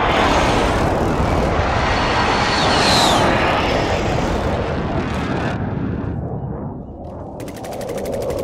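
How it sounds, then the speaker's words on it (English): An allied precision airstrike in Call of Duty: Modern Warfare brings a loud roaring jet pass amid rumbling explosions and gunfire, the roar sweeping overhead before fading away. "Allied precision airstrike incoming."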